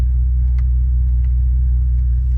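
An idling Bentley engine at operating temperature gives off a deep, steady low rumble, even and close, with a few faint ticks above it and no talking.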